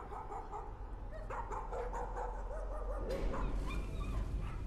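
A puppy in the horror video game Layers of Fear barks and whimpers in short yips over a steady, droning background, growing a little louder toward the end.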